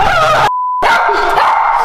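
A dog barks close by in loud, sharp bursts, cut off by a brief beep, then more agitated barking and yelping.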